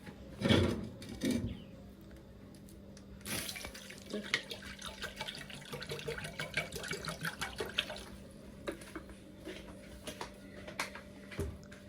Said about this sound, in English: Then I will now add some drinking water into the pot also.